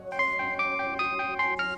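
A mobile phone ringtone plays for an incoming call, a bright repeating melodic tone pattern with steady pulses, loud and close, heard alone without talk.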